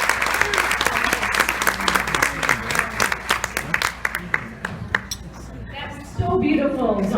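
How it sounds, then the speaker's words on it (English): An audience at an American Cancer Society keynote event applauds with steady, dense clapping that gradually thins out, and talking starts up near the end. "Another round of applause for Dawn."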